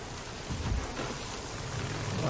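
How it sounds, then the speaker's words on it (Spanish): Steady rain falls at night in a forest in the video game Days Gone, a dense, even wash of noise with a faint low rumble underneath and no voices. "Está de noche lloviendo por el bosque."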